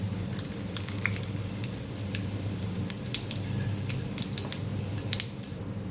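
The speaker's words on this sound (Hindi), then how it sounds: "फ्राई करेंगे इसको" Cumin seeds and whole spices fry in a few tablespoons of hot oil on a stove, a steady close sizzle with scattered bright crackles and pops throughout, no talking.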